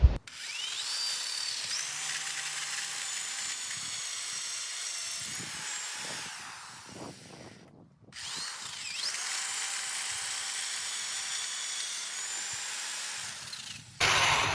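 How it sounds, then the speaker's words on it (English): A power drill whines steadily as it bores into wood while installing aluminum pool railing, stops briefly with a few knocks, then runs again for several more seconds. "Set that aside, and then drill."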